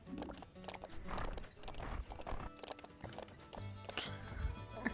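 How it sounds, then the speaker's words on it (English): A horse's hooves clip-clop amid sound effects and music from the game The Ranch of Rivershine, with a brief whinny and some thumps. "That's a cute little horse there."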